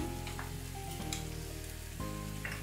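Moong dal fries in a pan with ginger paste and turmeric, a steady close sizzle with stirring scrapes roughly once a second over a low background hum.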